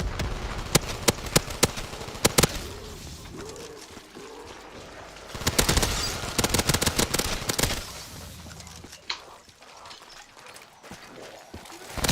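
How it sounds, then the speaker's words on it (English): Machine gun fire in a Black Ops 3 custom zombies map with an MWZ mod: sharp, close shots crack out in quick strings, then a denser burst follows, with quieter gaps and scattered shots between. "Machine gun goodness"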